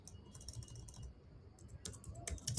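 Rapid computer keyboard typing, a steady run of close clicky keystrokes with a brief pause midway and a denser flurry near the end, no voices.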